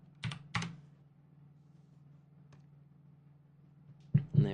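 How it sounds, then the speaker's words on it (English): Computer keyboard keys tapped while entering a value in Adobe Illustrator, a few crisp clicks near the start and a quick pair at the end, close and quiet over a low steady hum. "Type in here 102."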